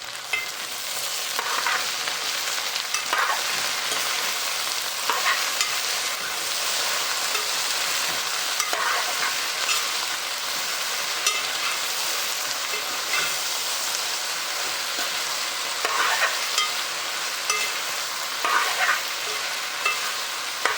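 Okra curry being stirred in a pan with garlic, a continuous bright sizzle and hiss with frequent scraping stir strokes, close and steady throughout, no talking.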